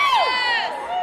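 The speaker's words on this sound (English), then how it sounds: "So the women are all cheering" Women in a convention cosplay contest audience whoop and cheer in a brief, loud burst of high voices.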